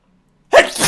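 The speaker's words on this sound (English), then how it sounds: "I'm going to sneeze again." A single sharp sneeze bursts out loud and close after half a second of near silence, with a breathy tail trailing off.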